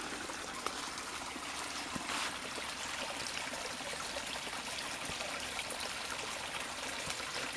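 Water trickling and burbling through a small stream in a winter garden in the west of Ireland, a continuous soft babble heard alone at moderate distance.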